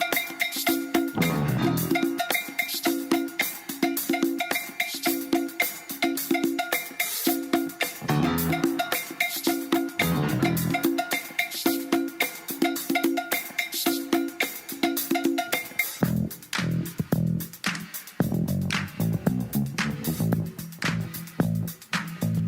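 A hip hop track plays steadily, a driving bass groove and percussive beat carrying on throughout at moderate volume with no talk over it.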